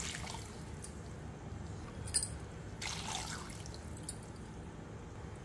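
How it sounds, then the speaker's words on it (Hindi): Water poured from a glass into a cooking pot for chicken yakhni pulao with ginger, garlic and onion, a soft trickling splash with a couple of brief louder splashes, close and quiet. "3 गिलास पानी डालेंगे।"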